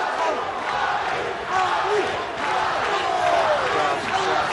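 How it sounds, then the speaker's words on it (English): A crowd at an MMA bout, UAE 42 with Ali AlQaisi facing Jesse Arnett, roars and shouts a fighter's name steadily throughout, a dense wall of voices with commentary mixed in. "Crowds are shouting out his name."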